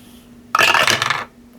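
A handful of dice rolled close by, one short rattling clatter lasting under a second as they tumble and settle on a hard surface.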